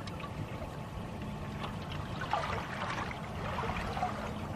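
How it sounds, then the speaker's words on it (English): Small waves lap and trickle against a canoe out on open water, making a soft, continuous watery patter with a few brighter splashes toward the middle and end. "Why is there all these little waves all of a sudden?"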